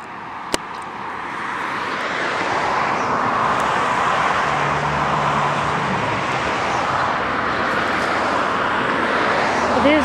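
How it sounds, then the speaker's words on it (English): Continuous road traffic forms a broad, steady roar beside a still pond, with a brief vehicle drone rising partway through and no talk. "All that traffic aside."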